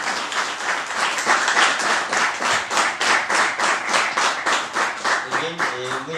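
Audience at a book presentation in Comitán de Domínguez, Chiapas applauds a speaker being introduced, steady clapping filling the room and fading as a voice begins at the end.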